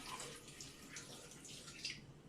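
Water pours into a big tall glass in a quiet indoor setting, a soft trickling and splashing with faint bright droplet sparkles, close and gentle, with no speech over it.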